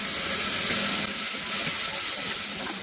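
Ginger-garlic paste sizzles and hisses steadily in a hot pan while being stirred, as part of cooking potato and pea pulao; a continuous close frying sound with no talking.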